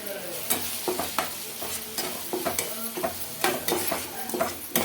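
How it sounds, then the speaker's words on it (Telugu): Spices sizzle and fry in a pan for a dried fish and egg curry, with a spoon stirring and scraping in steady repeated strokes close by, no talking. "ఇప్పుడు ఇవన్నీ కొద్దిగా పచ్చివాసన పోయే వరకు అయితే వేయించుకోవాలి"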